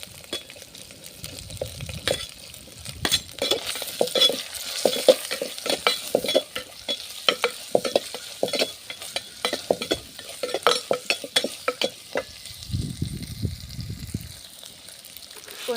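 Onions sizzle in a hot pan while a utensil stirs them, with quick clattering scrapes and taps running over a steady frying hiss, close and fairly loud, plus a brief burst of low bubbling near the end.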